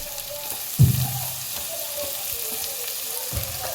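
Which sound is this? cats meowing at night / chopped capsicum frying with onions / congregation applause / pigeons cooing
chopped capsicum frying with onions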